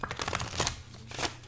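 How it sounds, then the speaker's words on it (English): A pack of fast action playing cards being shuffled, giving quick papery riffles and flutters in several bursts, close and fairly soft, with no talk. "You know, you can shuffle them up."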